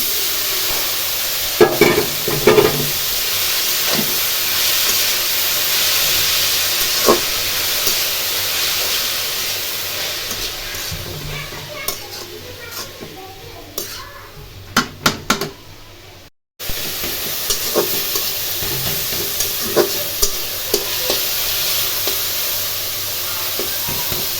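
Bottle gourd greens frying in a pan, heard as a loud, steady hiss and sizzle with scattered stirring clicks and scrapes and a brief cut of silence midway.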